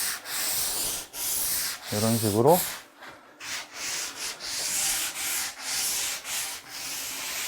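Sandpaper held in both hands rubs lightly over a homemade wooden belly board in repeated rhythmic strokes, each a dry scratchy swish, with a brief spoken remark partway through.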